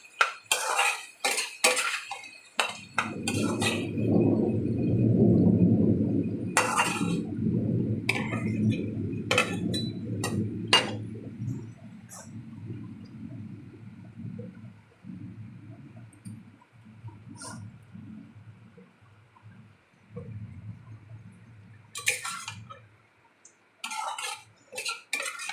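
Salted prawns and potato pieces stir-fried in a pan for a Bengali prawn dish, a long low sizzle broken by sharp clinks and scrapes of a spatula against the metal, with scattered clatter before and after.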